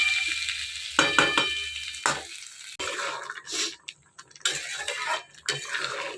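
Papaya and lentil curry stirred in a pan with a spoon, scraping and sloshing in uneven bursts over a faint sizzle, with brief pauses between strokes.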